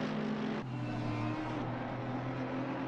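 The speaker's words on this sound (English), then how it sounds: "he's got some noisy cars in the background" Steady, loud roar of cars passing along a city street during carnival weekend in Latin America, one engine note dropping as a vehicle goes by, continuous with no talk.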